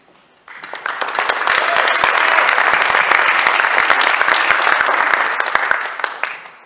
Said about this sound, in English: Please applaud the accomplishments of these students.